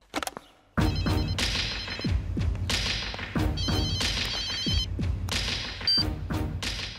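A telephone rings with repeated bright trills, loud and close, broken up by thumps and clatter while a call is being placed.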